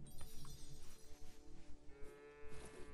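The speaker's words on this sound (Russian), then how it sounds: "Надо погладить корову, может она молока даст." A cow moos in the video game Lego Fortnite, a short low call that stands out clearly over a faint game background, with no one talking.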